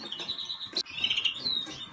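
A cock siskin kept by a bird breeder sings close by, with bright high twittering and chirping phrases and a few quick sharp notes over faint room noise.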